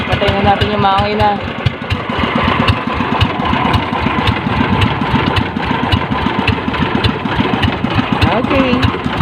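A fishing boat's motor engine chugs steadily and loudly at a close distance, a constant rhythmic throb running through the whole stretch.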